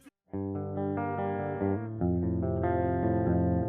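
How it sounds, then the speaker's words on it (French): Dry recorded electric guitar with no effects added, a sustained chord then shifting chords ringing steadily, fairly quiet and alone. "votre guitare, quand vous venez de l'enregistrer, à la base, ça sonne comme ça"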